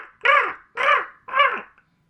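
Three loud, harsh crow caws in steady succession, each about half a second long with short gaps between them, heard close up and clear against a quiet background with no voices.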